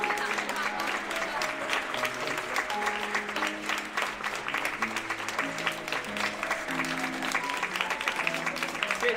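Wedding guests applauding at a church wedding ceremony, steady dense clapping lasting throughout over sustained background music.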